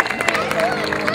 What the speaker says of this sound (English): Give him a round of applause for having fun